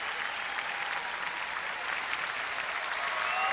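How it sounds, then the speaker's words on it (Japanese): A figure skating arena at the 2016 World Championships rises in a standing ovation for Zijun Li's short program: a large crowd claps densely and continuously with cheering mixed in, full and sustained, slowly swelling toward the end. "スタンディングオベーションです。"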